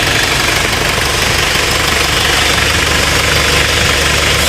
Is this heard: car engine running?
yes